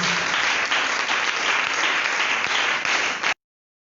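A church congregation applauds in a dense, steady wash of clapping that holds evenly for about three seconds, then stops abruptly.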